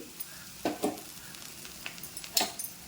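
Home-style cauliflower stir-fry with a little grated coconut sizzles softly in a pan as it is stirred, with a few brief scraping bursts rising above a low, steady frying hiss.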